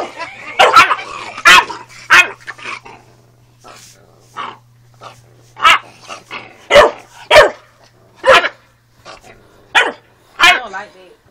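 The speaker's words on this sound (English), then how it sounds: "He sounds so funny when he barks." A young puppy lets out a series of sharp, squeaky, gremlin-like barks and yips in irregular bursts close by, mixed with people's voices.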